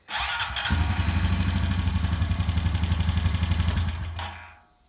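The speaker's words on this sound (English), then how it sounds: "I'm about to crank the motor over very quickly just to make sure that it spins straight and doesn't wobble" A Honda Foreman 500 ATV engine with its water pump being rebuilt is cranked over by the starter, a steady rapid mechanical whirring and clatter lasting several seconds, close and loud, then winding down to silence.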